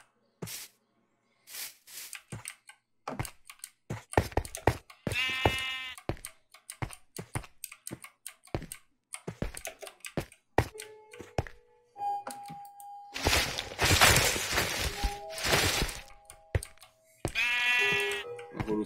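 Sheep bleat in the video game Minecraft, two or three distinct bleats amid clicks, thunks and block-placing sounds, with no voices.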